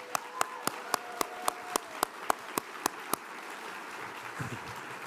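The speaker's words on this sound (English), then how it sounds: "give me a round of applause" Audience applause at a county executive's State of the County address, heard as a dozen sharp, evenly spaced claps standing out over a soft crowd bed, fading out toward the end with a low rumble.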